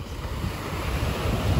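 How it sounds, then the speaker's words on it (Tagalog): Calm sea off Zambales, a steady broadband wash of gentle waves with low rumble and some wind on the microphone, continuous and fairly loud, no voices. "Tahimik yung dagat, hindi masyadong maalon"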